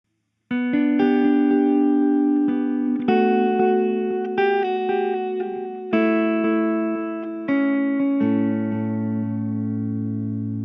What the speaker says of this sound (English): and we've got echo,